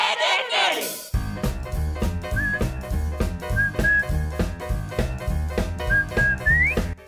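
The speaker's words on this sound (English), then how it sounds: "The whistling, it was like the summoning call for kids to get everyone to run to the TV" Cheerful melodic whistling carries the Ed, Edd n Eddy cartoon theme song over a bouncy instrumental backing with a steady beat, opening with a brief burst of other sound before the tune kicks in and repeats its short whistled phrases.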